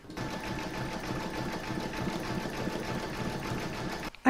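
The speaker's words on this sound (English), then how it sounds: "I'm going to pop this into my machine and stitch round number 11, and that's going to do the satin stitch around these edges." An embroidery machine stitching a satin stitch around the edges of an in-the-hoop table topper, a steady, fast mechanical whirring hum running continuously at close range, then stopping abruptly.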